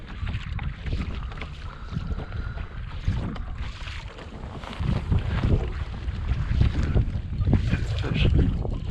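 Gusty wind buffets the microphone on a lake during kayak fishing, a steady low roar with water lapping against the kayak hull, rising stronger in the second half with no clear talk.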